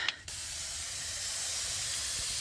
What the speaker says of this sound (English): I'm coming through and hitting it with the hose on mist, just really light mist